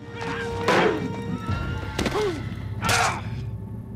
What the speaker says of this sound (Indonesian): Tiba-tiba 2 orang anggota Blackjack datang dan merusak tanaman Lem dengan kuda mereka